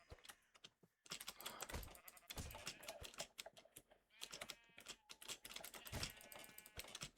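Sheep bleating in the Minecraft video game, several short bleats rising over steady clicking keyboard typing, with game sounds running throughout.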